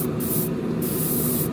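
Airbrush or spray gun misting blue paint onto model car mirrors in a spray booth for a Revell 1971 Boss 351 Mustang kit, a steady unbroken hiss of thick paint, close and continuous with no talking.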